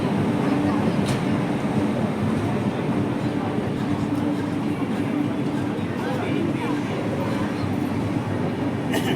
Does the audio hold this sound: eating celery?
no